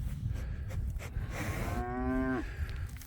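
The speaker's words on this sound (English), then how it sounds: "Blue's a friendly cow" A friendly cow named Blue gives one drawn-out moo, close and loud, rising and then breaking off. Rustling and outdoor noise on a farm sit underneath it.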